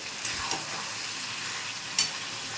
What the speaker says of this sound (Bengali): এটাকে আমি পাঁচ মিনিটের থেকে বেশি কষিয়ে নিয়েছি আর একটু কষাতে হবে